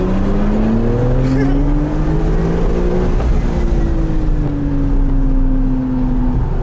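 A Porsche Cayman GTS driving on a race circuit, its engine droning and rising steadily in pitch with a constant road roar, heard from inside the car.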